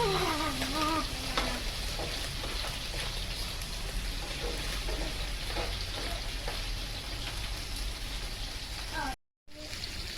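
Food fries in hot oil in a home kitchen, a constant close crackling sizzle with occasional stirring, while people talk briefly at the start and background voices carry on faintly.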